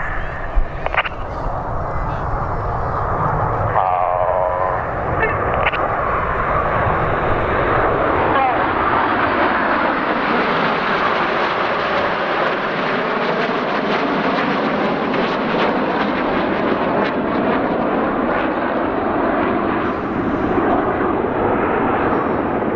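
Red Arrows jets flying in formation at the Old Buckenham Airshow, a loud sustained jet roar that swells and sweeps past, with a commentator talking over it throughout.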